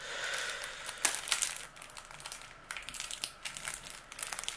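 Plastic wrapping on a Star Wars Destiny starter deck being crinkled and pulled at, close crackling and crushing in uneven bursts with short pauses, no voice.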